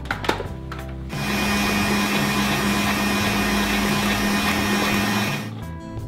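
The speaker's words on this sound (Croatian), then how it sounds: "i to ću zamutiti u mikseru" An electric mixer whisks eggs and sugar for donut batter, a steady loud motor whir with a constant pitch that runs for about four seconds and then stops, with brief clatter before and after.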